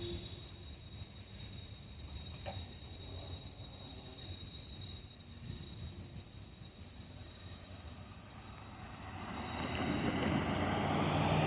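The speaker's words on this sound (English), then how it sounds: "a CSX train heading back from Port of Wilmington" A CSX train heading back from the Port of Wilmington rolls past a railroad crossing, with rumbling wagons and squealing wheels that swell louder toward the end.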